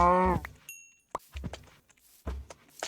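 Cows moo in a modded Minecraft game, one drawn-out low moo up close, then thuds and clinks of game actions and footsteps, with no talk.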